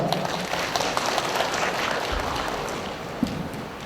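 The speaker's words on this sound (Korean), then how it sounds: "박수 부탁드립니다" Audience applause at a high school admissions briefing in Korea, a steady broad wash of clapping that fills the whole span at moderate level with no clear voice over it.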